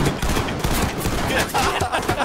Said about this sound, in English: Who started shooting? I finished that.